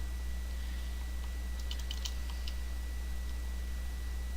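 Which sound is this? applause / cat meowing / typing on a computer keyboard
typing on a computer keyboard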